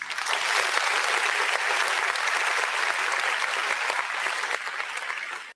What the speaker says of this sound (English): We can go ahead and give that brother a round of applause right now.